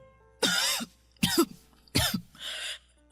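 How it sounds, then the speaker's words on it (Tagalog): Four close, heavy coughs come in quick succession from an older woman, each a rough, raspy burst, the last one softer and breathier, in a quiet room. "ang tindi ng ubo niyo."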